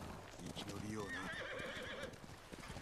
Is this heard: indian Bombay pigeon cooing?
no